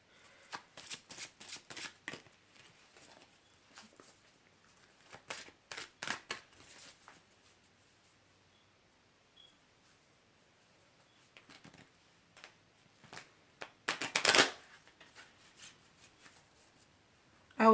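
A 44-card oracle deck is shuffled by hand in bursts of crisp riffling and flapping card noise, quiet pauses between the flurries, and a louder rapid run near the end, close and dry.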